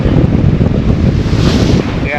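Strong wind buffets a sailboat at sea, a loud continuous roar of gusts and microphone wind noise with the rush of water beneath, steady and close throughout.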